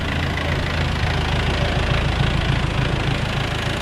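A tractor engine idles steadily on a soybean farm, a loud, constant low rumble with no speech.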